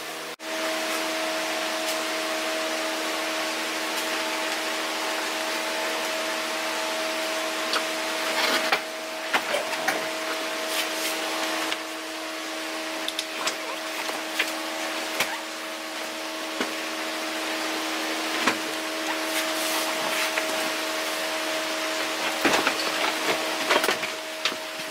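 Thick, heavy carpet being ripped out of a BMW E36 318i interior, with repeated tearing and scraping bursts over a steady mechanical hum, close by and without talk.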